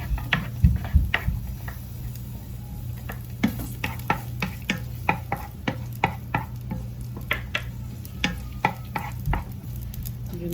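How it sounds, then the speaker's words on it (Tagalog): Garlic being sautéed in a pan for squid with tomatoes, with a steady low sizzle under repeated sharp clinks of a utensil stirring against the pan, close and even throughout. "Pwede na natin gisa yung bawang."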